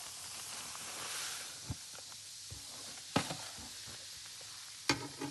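Semolina is stirred in ghee in a pan, a faint low sizzle with a few distinct scraping knocks of the spoon against the pan, no talking.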